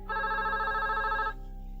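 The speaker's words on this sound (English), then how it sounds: "I get a phone call from Paul Danley, and he introduces himself" A telephone rings once, a single steady electronic bell tone lasting just over a second, clear and alone before cutting off into quiet room tone.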